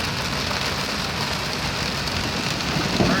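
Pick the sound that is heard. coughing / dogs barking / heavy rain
heavy rain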